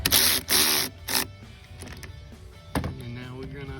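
A Ford Escape battery terminal being tightened back up, with a few loud ratcheting bursts close by, then quieter clicks and a final short ratchet, with someone speaking briefly.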